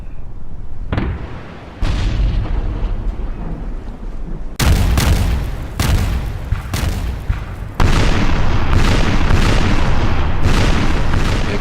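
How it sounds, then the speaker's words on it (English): A 64-gun Austrian warship fires a cannon broadside in a Napoleonic naval battle, a series of loud, deep booms rolling one after another and swelling into a heavy, continuous barrage. "Big broadside by the 64 Austrian"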